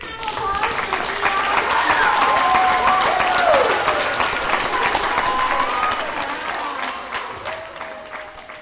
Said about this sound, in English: let's give a huge round of applause for Eli